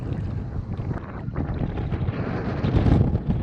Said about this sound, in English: Oh, the wind is really blowing hard.